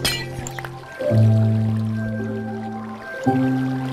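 Water in Minecraft flowing and dripping inside a dungeon, with a steady liquid gurgle and tonal trickling that swells around the middle, fairly loud and close, with no talk.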